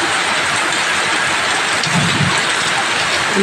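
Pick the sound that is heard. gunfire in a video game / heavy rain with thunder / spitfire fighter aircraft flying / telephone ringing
heavy rain with thunder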